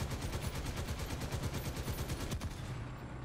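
Rapid bursts of gunfire hit a tank in War Thunder, a steady rattling stream of loud impacts that fades slightly toward the end, with no talking.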